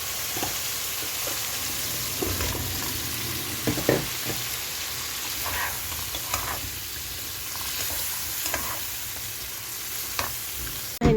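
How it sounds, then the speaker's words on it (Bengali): Fish fries in a pan on a home stove, giving a continuous close sizzle with a few light utensil taps and clatters and no talking. "এই পাশটাতে মাছ ভেজে নিচ্ছি"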